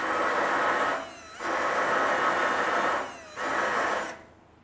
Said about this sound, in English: the stud welders do work really well